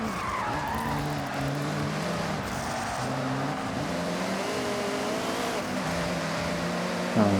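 A BMW sliding through corners in a racing video game, a steady sustained tire skid layered over droning engine tones that shift pitch, continuous and close throughout.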